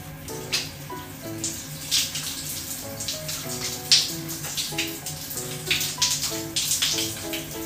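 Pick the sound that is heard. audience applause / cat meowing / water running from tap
water running from tap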